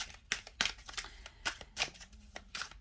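A deck of Osho tarot cards is shuffled close up in a quiet room, a quick run of crisp riffling bursts and soft papery slaps repeating every half second or so.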